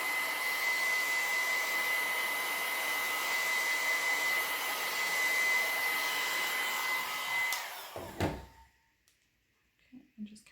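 A hair dryer on its low setting blows with a steady, close whoosh and a thin high whine for nearly eight seconds, then clicks off into quiet with a few small handling sounds.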